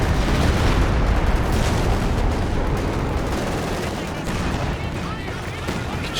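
Katyusha rocket artillery strike in Company of Heroes 2, a dense rolling barrage of booms and blasts that stays loud and continuous throughout, with faint voices mixed underneath.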